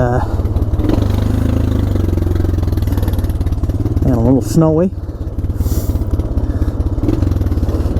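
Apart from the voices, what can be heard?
Honda Foreman 400 ATV engine on icy trail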